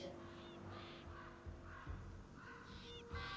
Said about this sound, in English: Watching the birds pick your body clean is almost soothing.